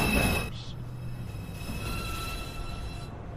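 A New York City subway 2 train, Manhattan-bound, standing at Beverly Road station with a steady low rumble and faint whine, after a brief burst of louder noise at the start; no talking.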